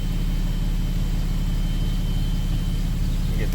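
A 2008 Dodge Ram with a 6.7L Cummins diesel and deleted exhaust drives with a steady, heavy low rumble and a constant engine drone, loud and continuous without any talk.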